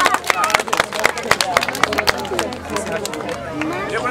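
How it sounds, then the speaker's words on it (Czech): A children's audience at a magician's show bursts into lively, dense applause with scattered cheers and excited voices, the crowd noise loud and continuous before slowly easing off. "Já poprosím pořádný potlesk"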